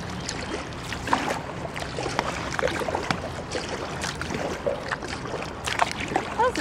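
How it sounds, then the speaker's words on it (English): Kayak paddle strokes in water while holding position against a current under a bridge, repeated soft splashes and dribbles over a watery wash, close and fairly quiet, with no talk. "I'm kayak paddling pretty hard to stay in the same place"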